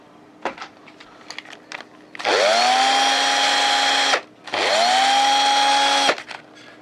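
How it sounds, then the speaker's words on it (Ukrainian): A cordless screwdriver powered by a salvaged mains power supply instead of its battery whirs up to speed twice, each run lasting about two seconds with a steady high motor whine and a brief pause between. "Шуруповерт з'єднано. Блок живлення включив."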